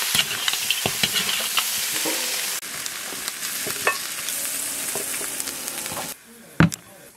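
Lamb stir-fries in a hot wok with a steady sizzle, punctuated by scraping stirs and clacks of the spatula, then the frying noise drops away near the end, followed by a single sharp knock.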